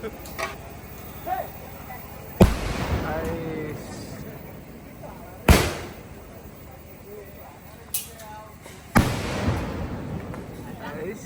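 Three sharp, loud bursts of fireworks at a village temple festival (kaliyattam) in Kerala, at intervals, each a broadband crack with a brief decay, over background noise and occasional voices.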